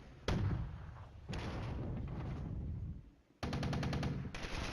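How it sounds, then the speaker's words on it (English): Mortar and artillery fire in the wargame Flashpoint Campaigns Red Storm: heavy booming bursts separated by short pauses, ending in a rapid string of repeated blasts, with no voices. "there's more artillery plotted. You guys can do it. And there go the mortars."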